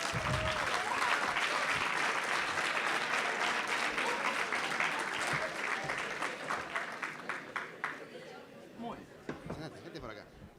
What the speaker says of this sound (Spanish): Un aplauso para Leo.